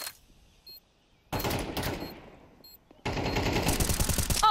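Gunfire in Counter-Strike 2: a short, loud burst around the middle followed by a sustained, dense volley of shots, with quieter gaps in between.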